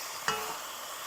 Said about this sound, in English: let's get that stirred in there